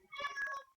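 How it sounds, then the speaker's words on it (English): A cat meows once, a short whiny call heard indoors at a live stream, fairly faint and alone with no talk over it. "that's the cat. He's a little whiny tonight."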